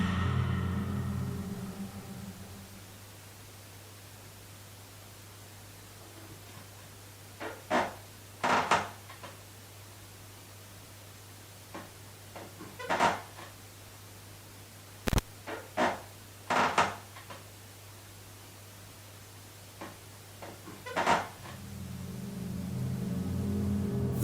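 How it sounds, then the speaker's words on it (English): Creaking floorboards inside a quiet house, a scattering of short, sharp creaks and knocks at irregular intervals, like someone walking around, over a faint steady hum. "The sound of creaking floorboards filled the house, sounding as if someone was walking around"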